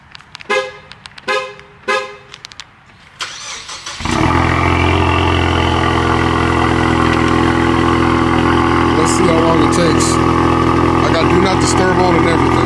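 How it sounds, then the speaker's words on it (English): A Ford Mustang fires up from cold after a few short horn-like chirps, then settles into a loud, steady, rumbling idle that holds for the rest of the clip. "Let's go ahead and get that cold start real quick."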